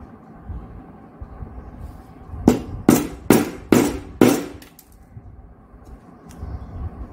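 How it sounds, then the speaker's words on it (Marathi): Five sharp metallic strikes in quick succession as a hammer drives a nail through a metal sheet, ringing out loud and close over a quiet background hum. "खिळा आणि हातोडीने जिथं मी मार्क केला आहे तिथं आपल्याला होल करून घ्यायचं आहे"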